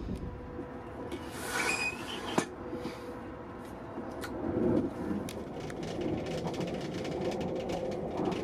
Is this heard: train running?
yes